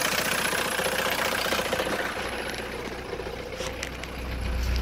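A 1967 Mercedes W110 200D diesel with freshly cleaned injectors, cold and a little smoky, idling with a close, steady low clatter and a short rev swell near the end.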